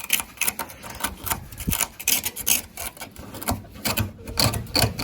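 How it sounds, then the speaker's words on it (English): Rust being scraped by hand off the sail panel of a 1966 Chevelle barn find, a close series of quick, gritty rasping strokes in an uneven rhythm, with no talking. "We'll scrape a little bit."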